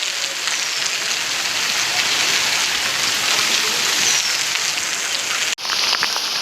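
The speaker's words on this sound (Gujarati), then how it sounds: "બહુ જ વરસાદ પડે હજી ચાલુ છે" Heavy rain pouring outdoors in a steady, dense hiss of drops striking surfaces, loud and continuous with no talking, briefly dipping near the end before resuming.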